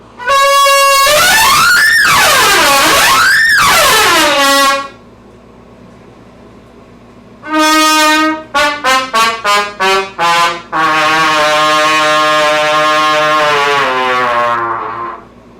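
Loud, close horn blasts: long sustained tones bending up and down in pitch, a pause, then a rapid series of short toots and a final long held blare.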